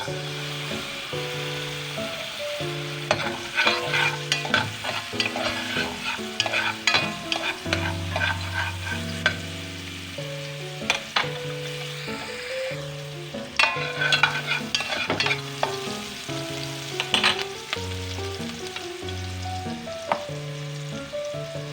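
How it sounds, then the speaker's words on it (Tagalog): Sliced onions sautéing in a pan for tom yum soup, with a continuous close sizzle and frequent stirring scrapes and utensil knocks, busy and unbroken for the whole stretch with no voices. "gisa ang sibuyas"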